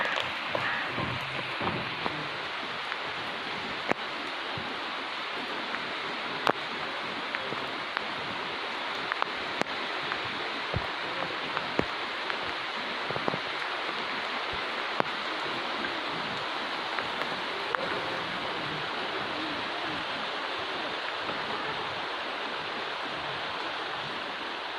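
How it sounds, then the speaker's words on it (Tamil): Heavy rain falls outdoors during the cooking of a red snapper fish curry, a dense, unbroken wash of rushing noise with scattered faint clicks, steady and moderately loud throughout. "இந்த மீன் குழம்பு நம்ம சமைக்கிறப்போ இங்கே சரியான மழைங்க."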